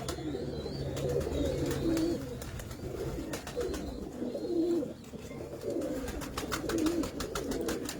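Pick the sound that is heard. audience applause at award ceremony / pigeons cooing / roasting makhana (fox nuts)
pigeons cooing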